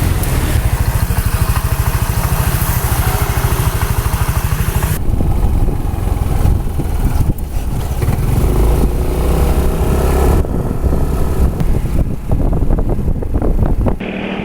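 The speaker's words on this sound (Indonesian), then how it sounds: "Padahal jalan nggak pernah lebih dari 40 km, suara mesin udah kasar." A small four-stroke motorcycle engine runs rough despite low mileage, a loud, uneven chugging idle close to the microphone under heavy wind buffeting.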